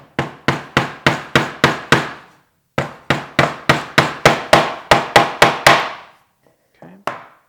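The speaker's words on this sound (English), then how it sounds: "let's start hammering" Sharp, evenly spaced hammer blows driving finish nails into a wooden block, two close runs of about a dozen strikes each separated by a short pause, with one final lone tap.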